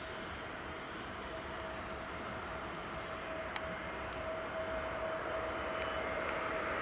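An EasyJet airliner passes on runway 24 at Edinburgh Airport, a faint, distant, steady jet rumble with a thin whining tone that lasts throughout.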